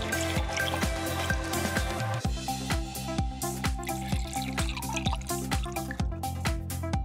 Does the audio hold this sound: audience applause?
no